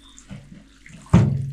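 Tap water suddenly gushes into a sink or basin where frozen meat has been soaking, starting loud and abrupt after a quiet stretch and running steadily to the end.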